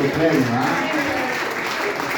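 A church congregation at a prayer-house gathering applauds steadily, with a voice talking over the clapping throughout.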